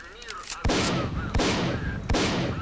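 Upgraded machine gun in the shooter game S.T.A.L.K.E.R. Clear Sky, firing three loud, sustained bursts of rapid shots that start abruptly and run close together, with only short pauses between them.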